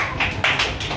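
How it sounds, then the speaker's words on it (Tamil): A group of children claps hands during a church children's ministry session, giving steady, even, fairly loud claps in quick succession with no voices over them. "சரி சார் கை தட்டுங்க."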